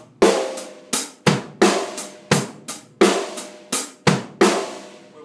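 A drum kit plays a simple beat with a rest on beat three, giving sharp, close kick and snare hits with ringing cymbal wash. About ten strikes fall in an uneven pattern with a short gap where the rest falls, and no one speaks.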